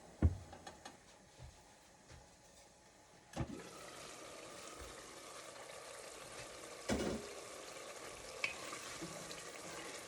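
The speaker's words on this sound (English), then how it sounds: "Let's just allow it to stir fry a little bit" A pan stir-fries quietly before bulgur wheat goes in, a soft, low sizzle broken by a few clanks and scrapes of a utensil against the pan, fairly faint with no talking.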